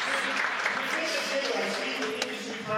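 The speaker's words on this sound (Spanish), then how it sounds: "todos los que luchan contra esto merecen un gran aplauso" Applause from an audience fills the span as a steady, dense wash of clapping, fairly loud and continuous throughout, with voices mixed into the crowd noise.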